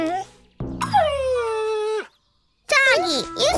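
A cartoon dog gives high, drawn-out whimpering whines in short bursts, broken by a moment of silence, close and clear in an animated kids' show.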